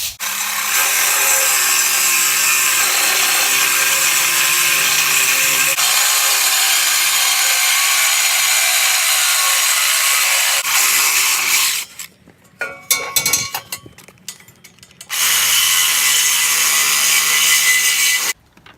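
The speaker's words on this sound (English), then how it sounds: "I'm gonna cut it to 50 just so I can have extra piping" A metal pipe being cut for a car harness bar produces a loud, steady, grinding saw noise that runs for about eleven seconds. It breaks off into clattering handling, then resumes just as loudly.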